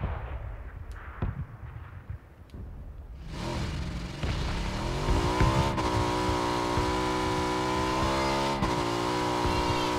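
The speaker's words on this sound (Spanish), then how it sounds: "Acá hay una moto, enfrente mío hay una moto" In the PUBG battle royale game, a motorcycle engine kicks in after a few quiet seconds, then holds a loud, steady, buzzing drone with slight revs, close by and without voices.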